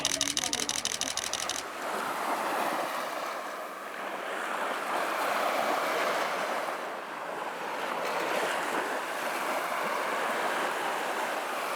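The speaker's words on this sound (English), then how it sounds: "We spotted the ocean," Ocean surf breaking on a shore, a continuous loud wash of waves with gusty wind noise across the microphone, after a brief burst of other sound at the start.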